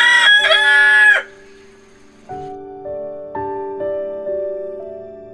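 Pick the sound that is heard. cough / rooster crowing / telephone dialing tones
rooster crowing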